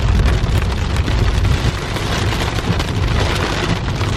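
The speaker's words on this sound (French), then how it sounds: "Nous sommes en pleine averse de grêle." A hail shower pelts down hard and steadily, a dense, continuous rattle of impacts with no pauses and no voices.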